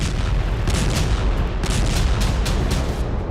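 A rapid series of heavy booms and bursts of artillery shelling in Kherson, Ukraine, pounding repeatedly over a rumbling background with no voices.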